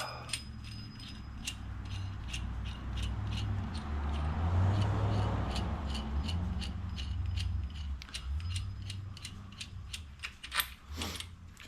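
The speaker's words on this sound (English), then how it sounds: "Loosen this nut all the way up." A nut is loosened on an axle bearing pulling adapter during 2005 Ford F150 axle bearing work, with quiet scattered metallic clicks and ticks over a low hum and a few sharper clinks near the end.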